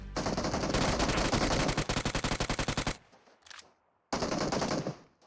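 Automatic weapon fire in PUBG Mobile: a sustained rapid burst of sharp, evenly spaced shots, then a brief lull with faint noises before another loud burst resumes.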